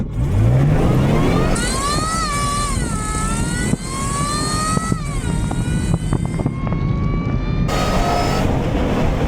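A 1996 Ford F-350 pickup with a 351W V8 pulls in four-wheel-drive low range, its engine droning loud and close as the pitch rises and falls with throttle, over heavy rumble and wind.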